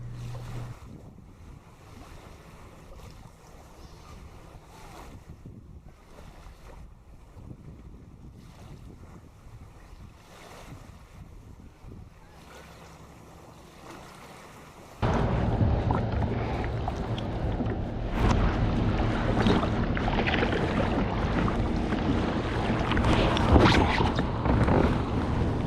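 Water sloshing and surf rushing past a kayak with strong wind buffeting the microphone, growing much louder and rougher partway through.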